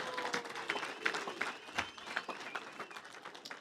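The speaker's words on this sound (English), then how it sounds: "Clap hands for Jesus." A congregation claps hands together in a steady, rhythmic beat, fairly quiet and slightly distant, the claps repeating evenly for several seconds with a faint crowd murmur underneath.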